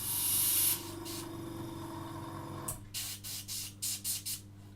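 Airbrush spraying acrylic paint, a close hiss that runs steadily for a couple of seconds, then comes in short repeated bursts, with no talking.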